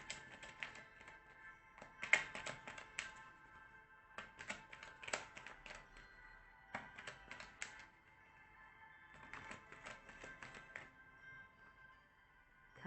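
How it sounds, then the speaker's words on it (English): Tarot cards are shuffled quietly in several bursts of rapid, light clicking and flicking, with brief pauses between the bursts and no talking. "As always, I shuffle the cards and they have to flick out."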